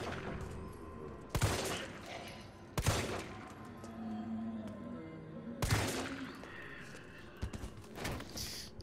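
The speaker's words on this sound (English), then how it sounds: "you always use your pistol on this bit" Pistol shots in the Resident Evil 3 demo, a few sharp, loud single bangs spaced several seconds apart over quieter game ambience.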